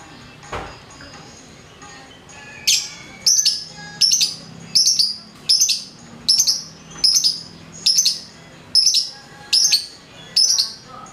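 A female lovebird calls with a run of sharp, high chirps in a steady rhythm, about a dozen in a row, close and clear, with faint background noise.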